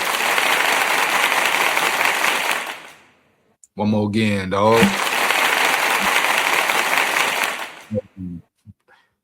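Two bursts of dense, sustained applause sound at a live-streamed shout-out: one at the start, and a second after a brief spoken line, both fading out before a few short vocal sounds close it.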